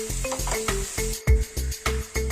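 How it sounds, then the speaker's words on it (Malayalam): Chopped okra stir-frying with salt in a pan: a steady sizzle broken by a quick, regular rhythm of spatula strokes and scrapes, close and fairly loud, with no voices. "ഇനി നമുക്ക് അരിഞ്ഞുവെച്ച വെണ്ടയ്ക്ക ഇതിലേക്ക് ചേർത്ത് കൊടുക്കാം."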